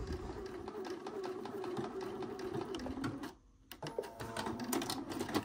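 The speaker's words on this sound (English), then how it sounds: "I'm just gonna go ahead and sew this into place. And we are gonna go ahead and backstitch over it" A domestic sewing machine stitches fabric in a rapid, steady, close whir, stops briefly, then starts again in short bursts as it backstitches over the seam.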